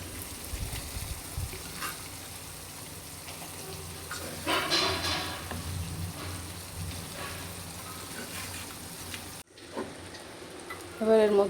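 Prawns sizzling in a cooked-down spice masala in a kadai, a steady moderate fry with a louder surge of hissing midway, then a brief drop before the frying resumes.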